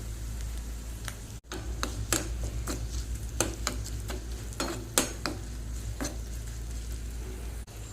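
Steady sizzling of spices and asafoetida in hot oil with intermittent sharp pops and clicks throughout, close and continuous.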